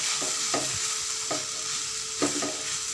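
Drumstick leaves and banana flower stir-fried in a pan, a continuous bright sizzle with four or five spatula scrapes at irregular intervals, close and fairly loud with no voices.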